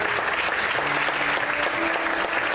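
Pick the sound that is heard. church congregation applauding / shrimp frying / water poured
church congregation applauding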